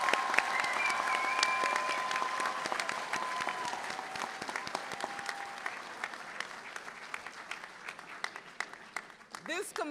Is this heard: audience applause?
yes